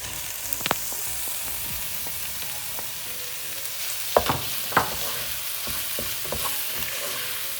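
Minced meat and onions sizzle steadily in a hot pan, a continuous hissing fry broken by a few sharp clicks and scrapes from stirring.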